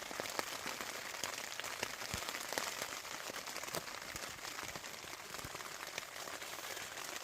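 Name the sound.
rain falling on a tent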